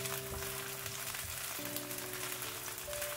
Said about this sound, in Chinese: 不断的翻炒